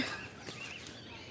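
Chickens cluck faintly in the background, a few soft scattered calls over an outdoor ambience.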